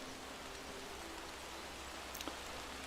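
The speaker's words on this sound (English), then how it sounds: "Oh, it's starting to rain." Rain beginning to fall in the Among Trees video game, a soft, even patter of drops on foliage and ground, faint and steady, with a brief small click near the end.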